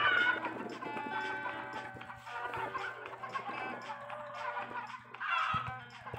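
A flock of farm chickens, about two thousand birds, clucks and squawks continuously at close to moderate distance, with overlapping calls and a louder squawk near the end.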